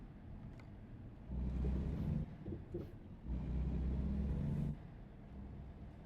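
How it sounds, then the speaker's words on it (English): A used 2014 Volvo truck drives in American Truck Simulator, a low engine rumble that swells twice into loud sustained drones and then falls back to a softer idle. "I bought a used Volvo truck from 2014"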